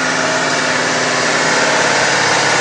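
Peterbilt truck diesel engine running away while blowing coolant onto the ground, a loud, steady, close roar with dense vibration throughout, heard alone.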